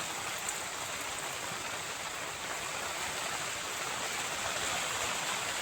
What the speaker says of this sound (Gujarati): તમે જોઈ શકો છો કેટલો વરસાદ આજે પડ્યો છે.